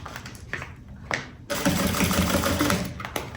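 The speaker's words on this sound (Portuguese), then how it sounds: "Encaixa, puxa e costura." Sewing machine stitching a fabric pencil case with a strap: faint rustling and a few soft clicks, then a steady, fairly loud mechanical whir of continuous stitching.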